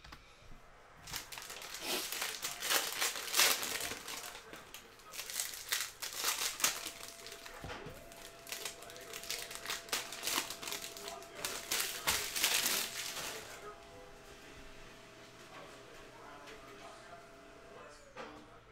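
Crinkly plastic cello wrapping on a multi-pack of Panini Prizm basketball trading cards is torn and crumpled open in loud bursts of rustling, then the noise fades into quieter handling.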